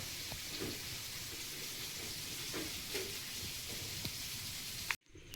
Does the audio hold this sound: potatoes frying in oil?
yes